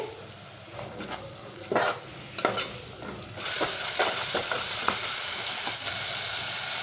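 Chicken biryani ingredients fry and are stirred in a pan at home, with spoon scrapes and clanks over a steady sizzle. The sizzle grows louder and fuller after a few seconds.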